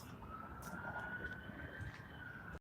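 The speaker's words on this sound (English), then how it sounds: "think it's just an ambulance driving by" A faint, steady ambulance siren wails in the distance over low background rumble, holding a sustained tone without coming close.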